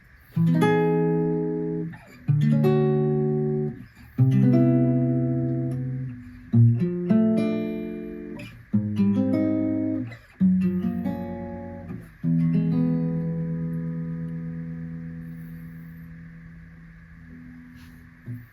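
Sustained major seventh chords built on each note of a whole-tone scale, played one after another, each struck and left to ring, stepping downward in pitch through a sequence of about eight.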